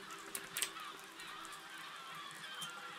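Geese-like birds honk in the physics building game Besiege, a couple of brief faint calls early on over a soft, steady ambient bed.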